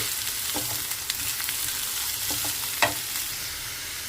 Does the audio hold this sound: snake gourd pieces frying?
yes